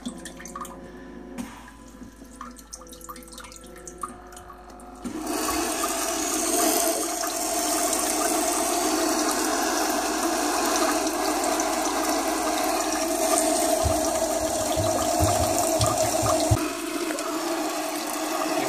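An electronic bidet toilet seat's wash nozzle starts spraying after a few quiet seconds, then a steady close hiss of water jetting and splashing continues throughout, with faint drips and mechanical ticks before it begins.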